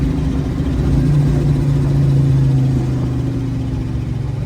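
A car engine with a blower revs and holds a deep, rumbling exhaust note, a steady close-up drone with a rising tone midway and no voices.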